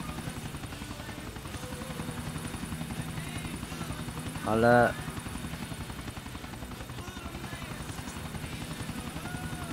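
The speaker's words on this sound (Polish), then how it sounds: "ten pierwszy lot helikopterem chyba na dobrze mi nie wyszedł" Steady whirring rotor drone of a helicopter in flight in Grand Theft Auto IV runs throughout at moderate loudness, with a brief spoken word near the middle.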